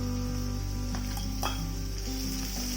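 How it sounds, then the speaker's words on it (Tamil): Steady sizzling of onions and garlic frying in a pan, a continuous crackling hiss with a few louder pops and stirring sounds, close and constant. "நல்லா வதங்கட்டும்."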